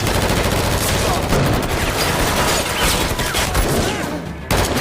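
Police gunfire in a film scene, sustained loud bursts of rapid shots blending into a dense, continuous barrage that breaks off briefly near the end before resuming.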